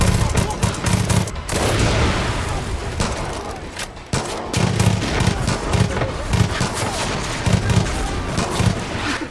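Gunfire from the video game Far Cry 5 rattles in dense, loud automatic bursts and rapid single shots throughout, with brief pauses and a steady background din.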